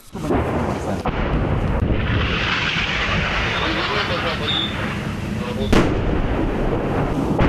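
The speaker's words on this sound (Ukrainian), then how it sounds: "Артилерійський вал ворога не припиняється тут ані вдень, ані вночі" Enemy artillery fire near Pisky in the Donetsk region rolls on as a continuous heavy roar and rumble. Sharper booms cut through around the first and sixth seconds, with voices partly audible under it.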